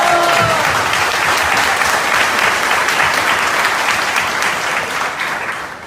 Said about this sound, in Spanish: Muy bien, aplauso para él.